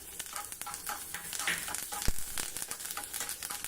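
Curry leaves crackling and sizzling in hot oil for a tempering, a busy spitting fry with sharp pops throughout and no talk.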